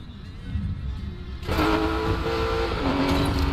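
A car's engine revs hard and accelerates in the Need for Speed Payback racing game, modded with Project Unite. The sound starts as a low, steady hum, then jumps into a loud, rising roar with a strong tonal whine.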